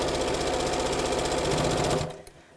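A sewing machine top-stitches the fabric handles of a fat-quarter tote bag, running in a fast, even mechanical chatter for about two seconds before stopping abruptly.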